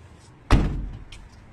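A passenger van's sliding side door slams shut once, a single sharp close followed by a brief rattle, near and alone with no voices.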